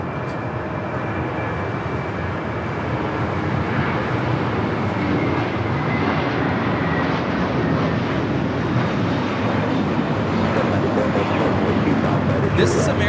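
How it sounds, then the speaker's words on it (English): An American Airlines Airbus A321 taking off at Los Angeles airport, a broad, steady engine roar that builds gradually, heard from a distance beneath ongoing talk. "This is American Airlines 238 taking off to JFK on the A321."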